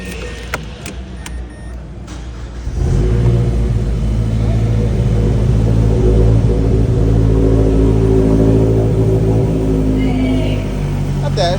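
A first-generation Mazdaspeed 3 fitted with a Corksport downpipe and HKS exhaust starts up after a couple of seconds of faint clicks, then settles into a steady, fairly loud idle rumble that holds for the rest of the clip.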